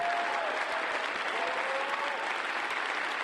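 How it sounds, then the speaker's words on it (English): Dense, steady applause from a large audience at the DEF CON 19 hacking conference closing ceremonies, sustained and even throughout with no letup. "Can we all have a big clap for Nikita"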